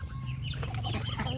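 Farm fowl, ducks and young chicks, calling close by in short overlapping clucks and peeps, with a brief flutter of wings amid steady low background rumble.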